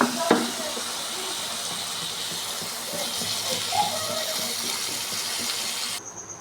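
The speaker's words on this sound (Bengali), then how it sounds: "এইভাবে আমি সেদ্ধ হওয়ার জন্য একটু জল দেবো" Water poured into a pan of frying spices brings on a steady hiss and sizzle, with faint stirring clinks and a brief tap near the start.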